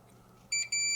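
Two short high-pitched beeps from a multimeter on continuity mode while probing the circuit board of an Xbox Series X Core controller, crisp and close against a faint background hum.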